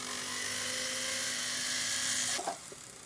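A rotary tool spins a round burr for jewelry work on a pearl inside-out ring, giving a steady high-pitched whine close by that cuts off near the end, with a couple of faint clicks after.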